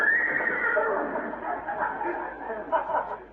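A horse whinny sound effect for a radio comedy: one long, loud, quavering whinny fills the whole stretch, with a fresh shaky burst near the end and faint voices beneath it.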